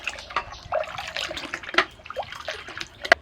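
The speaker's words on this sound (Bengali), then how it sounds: "এবার এই বাকি দুধের মধ্যে এটা ঢেলে দিচ্ছি ভালো করে মিশিয়ে নেব" Curd mixture poured into milk for bamboo sweet curd, a close, irregular splash and trickle of liquid with a few sharp drips and clinks.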